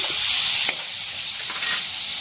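Potatoes frying in a pan give a loud, close hissing sizzle, with a sharp clatter near the start and the sizzle settling slightly quieter afterward.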